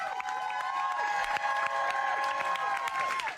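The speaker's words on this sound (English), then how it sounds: "Applause as Vice President Kamala Harris walked into her campaign headquarters in Delaware" A crowd in a campaign headquarters in Delaware claps and cheers steadily as Vice President Kamala Harris walks in, with sustained applause and raised voices throughout.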